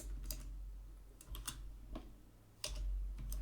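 Keystrokes on a computer keyboard while entering a MySQL statement, a few quick clustered clicks spread across a few seconds, close and fairly quiet over a low background hum.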